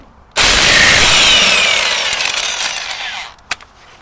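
An air impact gun rattles loudly on a nut of a Land Rover 110 wheel hub in one sustained, hammering burst lasting about three seconds, followed by a short metallic knock.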